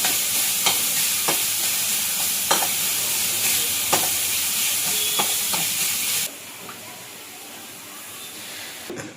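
Chopped tomatoes with tamarind, salt and turmeric sizzle in a hot pan while a spoon scrapes through them in regular strokes about once a second; the frying hiss stays steady, then drops quieter near the end.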